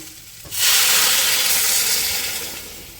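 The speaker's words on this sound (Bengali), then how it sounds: "পরিমাণ মতন জল দিয়ে দিয়েছি" Water poured into a hot pan of fried potatoes and telakucha shoots erupts into a loud, dense hiss of steam and sizzle after a brief quiet start, then slowly eases over a few seconds.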